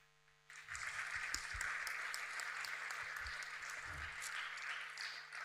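Audience applause in memory of Marco Maria Gazzano at a gathering: a sustained, steady round of clapping from a room of people that starts abruptly and holds evenly throughout, over a faint electrical hum.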